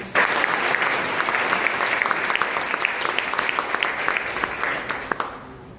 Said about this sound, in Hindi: एक तालियां जोरदार रूप से उन सभी हमारे पूर्वजों के लिए।